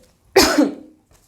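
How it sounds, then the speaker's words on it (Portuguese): One loud, harsh cough close by, a single burst that trails off quickly. "se estourou aí o áudio de vocês, eu tossindo"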